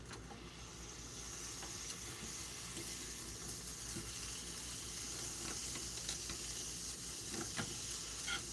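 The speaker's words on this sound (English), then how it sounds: "I'm doing it in a frying pan." Protein waffles warm in a frying pan with a quiet, steady sizzle and soft crackle running throughout, faint and close with occasional small clicks, and no talking.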